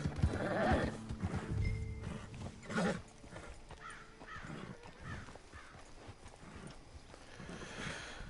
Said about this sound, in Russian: Давайте привяжем лошадку нашу.